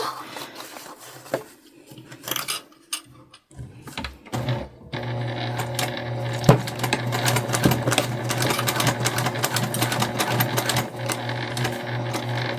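A sewing machine bastes the layers of a bum bag with the lining piece facing up, starting in short stop-start bursts and then running in a fast, steady whir, loud and close.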